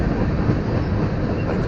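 A long BNSF freight train of about 125 cars rolls past, a loud, continuous low rumble and roar with no breaks and no voices.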